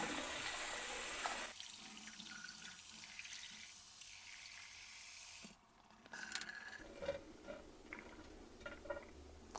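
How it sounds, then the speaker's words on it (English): Water rinses through a handheld shower head, a loud steady spray at first, then softer running and splashing with scattered drips and taps as the flow shifts. "Push the little diverter button, make sure that you're able to rinse everything out."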